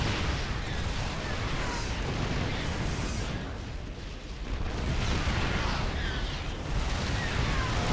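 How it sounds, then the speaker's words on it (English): Siege tank shots and explosions in a StarCraft 2 battle between AI bots, heard as a dense, continuous barrage of booming blasts and bursts with a brief lull midway, loud and unbroken throughout. "it doesn't quite position the Thor properly afterwards as it eats those tank shots."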